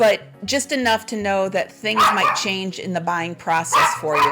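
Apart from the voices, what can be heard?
dog barking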